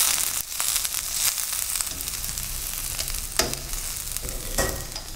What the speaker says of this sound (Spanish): Ponemos el maíz. Que se dore el maíz.